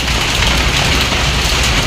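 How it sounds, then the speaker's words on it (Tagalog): Heavy rain pours in a steady, dense roar with no break or change in level, loud and close throughout. "Malakas ang ulan eh, kaya ang hirap sumakay."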